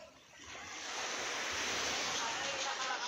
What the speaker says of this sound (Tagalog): Ayan ang dagat, ang ganda ng dagat dito